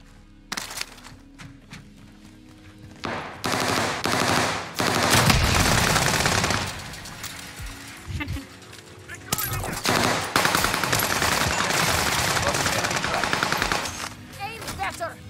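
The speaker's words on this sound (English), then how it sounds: "Assault rifle." Assault rifle fire from the Warzone video game comes in loud, sustained automatic bursts that stop and restart, with short gaps between the volleys and voices speaking over part of the shooting.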